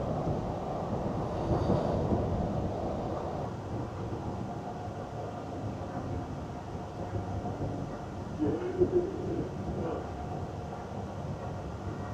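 A continuous low rumble and faint rattle of a train running on rails between Bradford Forster Square and Skipton, heard from inside the carriage at a steady, moderate level.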